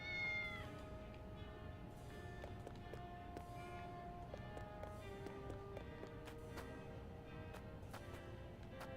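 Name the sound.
cat meowing in the video game Triangle Strategy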